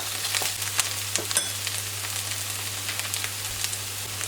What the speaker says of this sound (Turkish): Onları da soğanlarla beraber hafif kavuralım şöyle sadece bir dakika kadar.